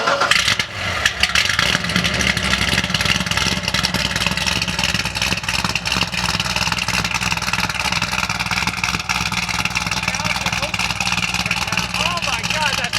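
A Chevrolet Corvette C7 Z06 V8 runs with a deep, continuous rumble close by, while voices talk over it throughout.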